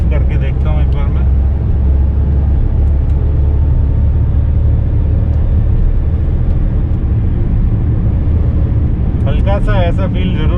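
A Maruti Alto 800 car engine runs with the AC switched off, a steady low droning hum heard from inside the car, loud and unbroken, while someone talks over it.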